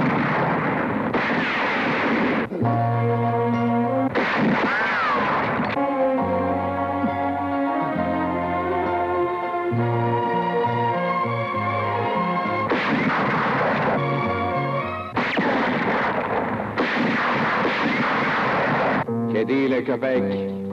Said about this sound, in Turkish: Silah sesleri.